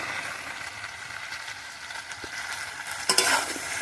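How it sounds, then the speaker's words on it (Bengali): Chopped tomato going into a spice paste frying in a pan for a spicy river fish and potato curry, with a steady sizzle, some stirring scrapes and a brief louder burst near the end. "এবার আমি টমেটো কুচিটা দিয়ে দেবো"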